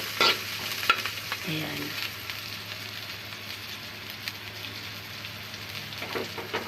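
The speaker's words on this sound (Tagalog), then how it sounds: "Sibuyas, bawang. Hintay natin na mag-brown siya guys." Chopped onion and garlic sizzle in hot oil as they brown, a steady crackling fry with a low hum underneath and a short spoken word near the start.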